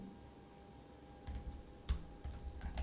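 Quiet computer keyboard typing as code is entered, a short run of soft, irregular key clicks with a couple of slightly sharper taps over a faint background hum.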